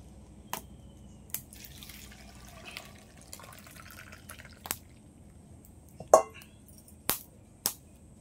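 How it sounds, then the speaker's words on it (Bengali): Water from strained curdled milk (chhana) drips in sparse, irregular single drops, quiet and close against a near-silent background. "ছানাটা তো কাটানো হয়ে গেল, এইবার আমি ছেঁকে নেব।"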